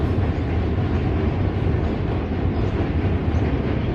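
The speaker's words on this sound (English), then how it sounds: "The subway on the Manhattan Bridge is super loud." Subway train crossing the Manhattan Bridge in New York, a loud, steady rumbling roar that fills the whole clip with dense broadband noise and no talk.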